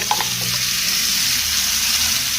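Marinated crabs for biryani fry in oil, a loud continuous sizzle with a few early stirring clinks and no talking.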